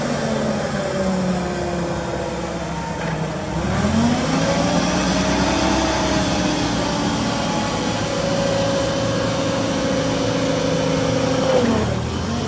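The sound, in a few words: Cat GC25K forklift engine running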